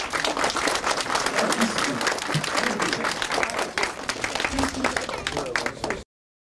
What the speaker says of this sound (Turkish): Size de kocaman bir alkış istiyorum.